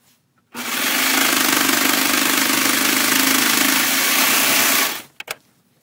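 A Baby Lock serger sews a four-thread overlock stitch in one continuous whirring run of about four and a half seconds, close and steady, starting and stopping abruptly, with a few clicks after it stops.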